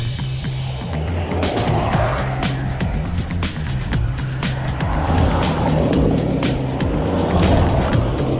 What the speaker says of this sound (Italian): arriva una macchina